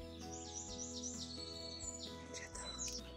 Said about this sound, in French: T'entends les oiseaux?